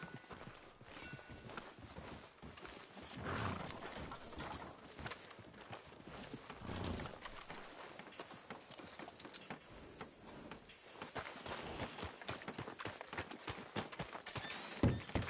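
Steady clip-clop of horse hooves walking at an even pace in the video game Red Dead Redemption 2, fairly close, with some faint background noise and no talking.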